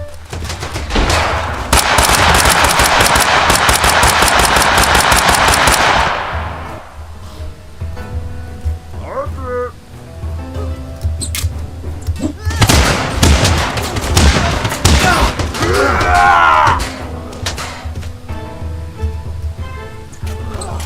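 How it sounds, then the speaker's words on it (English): Shotgun and M16 rifle fire in the battle game TABS: a dense, loud volley of rapid shots for several seconds, then scattered bangs and clatter under game sounds and voices. "Too bad hoplites are weak to shotguns, right? And one M16,"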